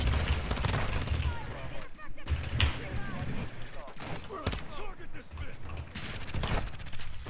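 Gunfire from Call of Duty Modern Warfare 2 comes in repeated bursts and single shots, mixed with game noise, while someone talks over it throughout.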